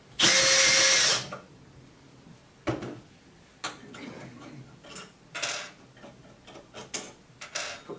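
A power driver whirs loudly for about a second while backing hex screws out of a cavity slider faceplate, followed by scattered clicks and light metallic taps as the hardware is handled.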